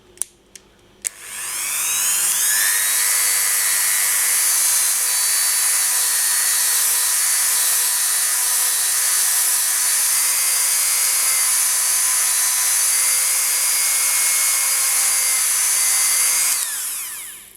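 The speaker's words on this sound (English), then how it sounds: "I'm going to be buffing it now" A power rotary buffer spins up after a few clicks and runs as a steady high whine for about fifteen seconds while buffing baked polymer clay beads, then winds down.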